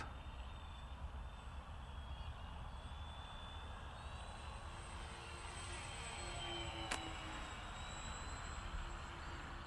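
A Dynam PBY Catalina RC model plane drones steadily overhead in the open air, its motor hum continuous and fairly distant, with a faint wind rush and no talk.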